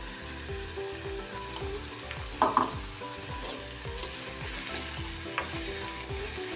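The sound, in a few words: onions frying and being stirred in a pan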